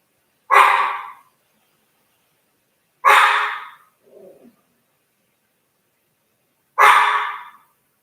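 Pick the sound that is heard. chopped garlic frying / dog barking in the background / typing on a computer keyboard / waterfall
dog barking in the background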